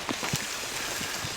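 Rain falls steadily at a campsite on a cold day, making a dense, even hiss with a few soft, low thuds of drops striking nearby surfaces.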